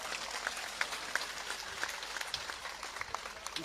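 Rally crowd applause for a speaker, a steady patter of clapping at moderate distance with a few sharper claps standing out.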